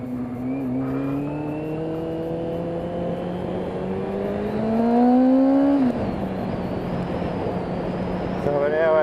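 A Honda CB400 motorcycle engine revs steadily upward to about 6,000 RPM, its pitch climbing and swelling louder as the extra valves engage, then dropping back to a steady idle-like drone before a brief blip near the end.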